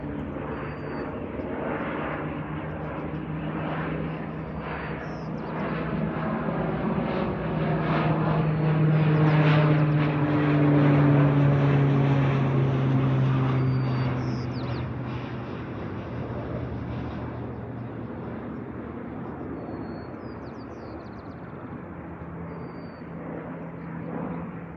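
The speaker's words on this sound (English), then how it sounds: "it's also what's called a single engine air tanker. It's flying in" A single-engine air tanker plane flies over a wildfire with a steady propeller drone. The drone swells as the plane passes near, then slowly recedes into the distance.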